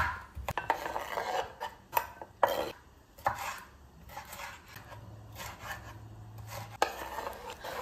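Tomato, onion and sweet pepper diced small on a board, with repeated close knife strokes in an uneven rhythm, some sharp hits standing out over quiet rasping, no voices.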